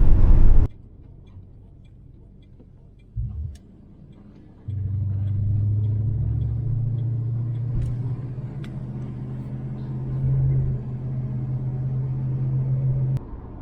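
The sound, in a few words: 1970 Dodge Coronet 440 driving with new carburetor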